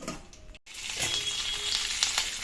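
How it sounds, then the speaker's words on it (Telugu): Toor dal and coriander seeds fry in oil toward a golden colour for curry leaves rice, a close, even sizzle after a brief gap, with faint stirring. "కందిపప్పు ధనియాలు వేసి ఫ్రై చేసుకుందాం గోల్డెన్ కలర్ వచ్చే వరకు ఫ్రై చేసుకోవాలి"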